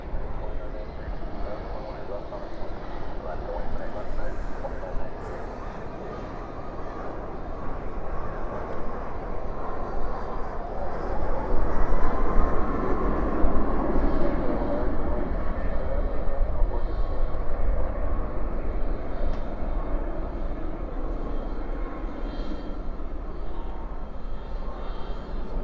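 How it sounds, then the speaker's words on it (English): A UPS airliner landing at night at Dallas Fort Worth airport with thrust reversers deployed, a broad distant jet roar that swells midway and then slowly eases, with people talking over it. "Spoilers up, reversers out."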